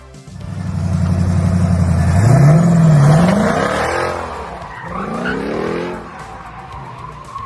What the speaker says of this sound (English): Watch this impatient idiot zoom by and get a cop on his rear promptly.